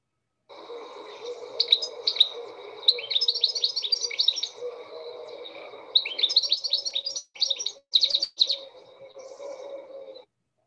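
A goldfinch sings a bright, jangling, twittering song in quick bursts, close and clear, with brief pauses between phrases.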